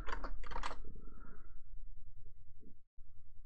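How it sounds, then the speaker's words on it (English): Typing on a computer keyboard in a quiet room, with a few quick clustered keystrokes up front and then only scattered faint taps over a low steady hum. "I'm just going to type in automation."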